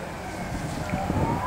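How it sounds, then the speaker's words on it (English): Fire truck sirens wail in the distance beneath a steady wash of traffic and crowd noise at a mock crash exercise, the rising tone faint but growing slightly louder. "Fire trucks are coming. You can hear the sirens now."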